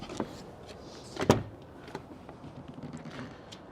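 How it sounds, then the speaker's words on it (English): The rear door of a 2026 Isuzu NPR-HD truck clunks open with a sharp latch click and a brief mechanical whir, followed by faint rustling and small knocks. "I'm gonna start with the back door opening"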